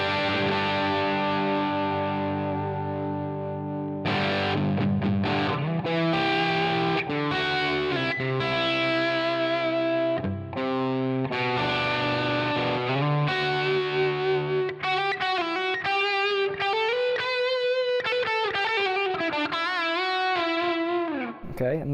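Distorted electric guitar chords played through an amp modeller with an impulse response and added reverb ring out with a reverberant tail, followed by a run of sustained, bending lead notes.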